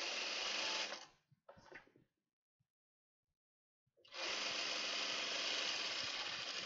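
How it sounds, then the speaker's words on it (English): Sewing machine stitching a French seam on a dress side seam at a quarter inch, a close, steady motor whir that stops, gives a brief stuttering burst, falls silent for about two seconds, then runs steadily again. "We're going to do another French seam on our side seam."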